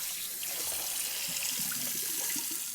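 Tap water runs steadily into a sink as parts of a 1937 WFL Paramount snare drum are rinsed, a continuous broadband splashing rush with small irregular spatters, close and alone with no voices.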